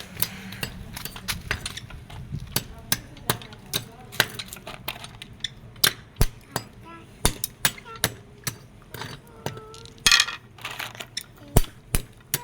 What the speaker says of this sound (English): Now I want to cut periwinkle.